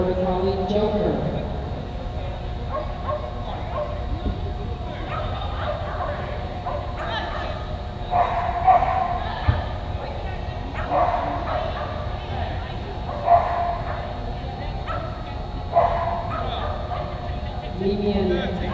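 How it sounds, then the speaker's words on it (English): A border collie barks and yips repeatedly at an agility competition in a large arena, the dog sounds rising in bursts over a commentator talking continuously. "we now see Mia Fountain and her border collie Joker"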